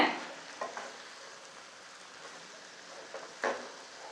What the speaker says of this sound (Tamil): இப்போ சாதத்தை சேர்த்துக்கலாம் இப்போ மெதுவாக கலந்து விட்டுக்கலாங்க